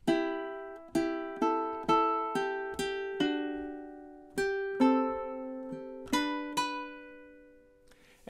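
Ukulele strums the start of a song's chorus, measures 7 and 8, in a steady rhythm of about a dozen bright plucked chords that ring and decay, played close and clear with no talking.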